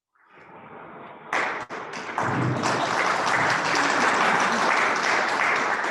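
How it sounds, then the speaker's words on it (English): Canned, recorded applause is played at an online general membership meeting, starting faintly, then jumping to a steady, full wash of clapping with a couple of brief thumps early on. "We have fake applause in there for that."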